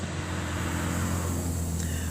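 A car drives along a road near a fishing spot at dusk in Volusia, Florida, giving a steady, moderately loud engine rumble with no talking.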